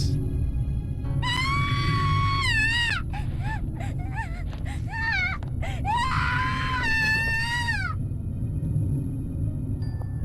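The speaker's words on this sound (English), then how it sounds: "間髪入れずに女の子の悲鳴が上がる。" Girls' screams in the Corpse Party horror video game: several long, high, wavering shrieks, each rising and bending before trailing off, with short sharp cries between them over a constant low rumbling ambience.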